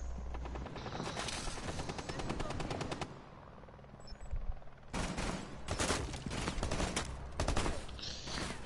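Gunfire in a video game, with dense rapid automatic bursts close by, a short lull, then more sustained bursts of shooting.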